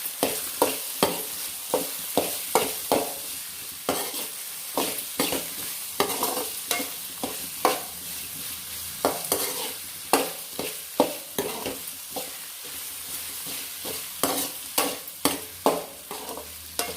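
Brinjal pieces stir-fry in oil in a pan for a palya, with a spatula scraping and tossing in quick rhythmic strokes over a soft, steady sizzle, close and clear.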